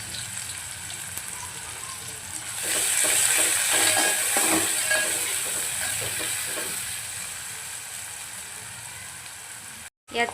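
Onion hitting hot oil with cumin seeds for Punjabi-style rajma, a bright steady sizzle that jumps up as the onion goes in and then hisses on evenly, with brief clatters of stirring.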